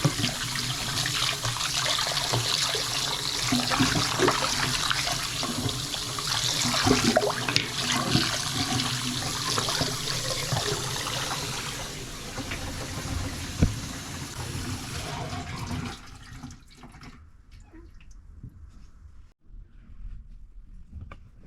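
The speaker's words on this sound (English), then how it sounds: "I'm gonna put some water in the sink." Water runs steadily from a faucet into a newly installed sink, a dense rushing flow that stays loud for about fifteen seconds and then cuts off, leaving near silence.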